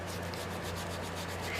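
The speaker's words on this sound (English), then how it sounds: "just keep sanding a bit here" Sandpaper rubs steadily over a broken doll's leg, a continuous close scratchy rasp with faint rhythmic strokes throughout, no voices.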